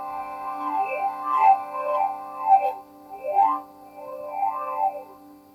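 An original wind instrument prototype called the Harminator plays a sustained chord through a vocal morph filter, giving a droning tone with sweeping, vowel-like wah shapes that rise and fall in repeating waves, close and clear with no speech.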